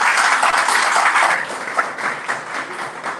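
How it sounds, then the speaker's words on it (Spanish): Audience applause at a post-election panel discussion in Ibarra, Ecuador: a dense, steady wash of many hands clapping, fairly loud and continuous throughout with no talk over it. "pido un aplauso para Juan Arias, ex candidato a la alcaldía"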